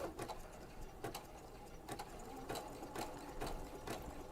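A sewing machine stitches pearls onto fabric using a pearls and sequins foot, a steady mechanical whir broken by regular sharp clicks about every half second, close and alone with no talking.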